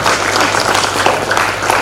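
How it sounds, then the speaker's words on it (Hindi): Students in an audience honoring parents break into loud, dense applause, a thick continuous roar of clapping with no break. "जोरदार तालियां।"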